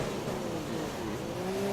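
Race car engine in the F1 2015 video game at the Malaysian Grand Prix, a steady buzzing roar accelerating off the start with a rising whine near the end, fairly quiet and without talk.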